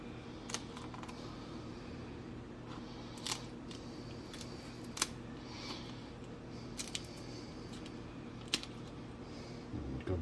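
Knife cutting straight down a quail's backbone during home butchering, giving a few faint, scattered crunching snips and clicks against a low background hum, with no talking.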